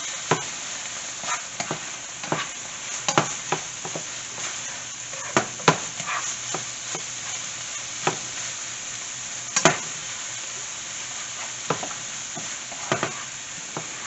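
Carrots sizzling in a pan as they are stirred for a turkey meatloaf, a steady frying hiss broken by scattered sharp clicks and scrapes of the utensil against the pan.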